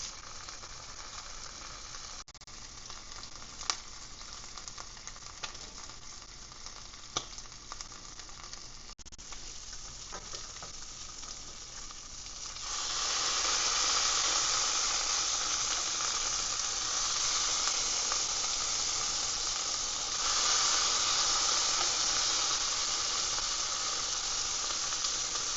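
Bacon frying in a pan: a steady, close sizzle and crackle with scattered pops, growing louder and denser midway as the hot fat intensifies, with no talking.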